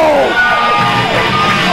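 A wrestling crowd at a Pro Wrestling Legacy show in El Paso, Texas, yells and bellows at a newly crowned champion, a loud, dense wall of mixed shouts and whoops filling the short burst.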